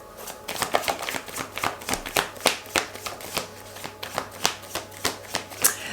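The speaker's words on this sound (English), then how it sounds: "Let's just pull out a couple of cards and see what I get." Tarot cards are shuffled in a steady run of crisp riffling slaps, close and distinct, with no talk over them.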